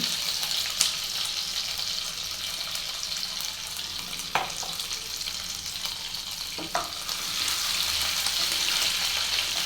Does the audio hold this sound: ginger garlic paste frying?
yes